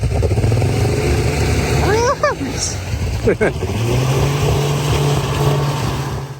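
A motorboat engine drones steadily over deep water on the Lena River, running below planing speed, with a low rumbling hum throughout and brief voices speaking partway through.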